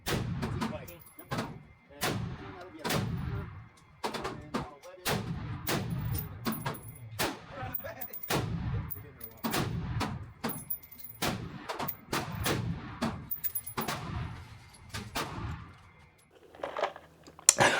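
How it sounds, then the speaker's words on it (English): A series of sharp, loud rifle shots from a Springfield Armory Hellion at a shooting range fires at an irregular pace through the whole stretch, each crack ringing out alone with short quiet gaps between. "I let off a couple rounds at the range using the Springfield Armory Hellion."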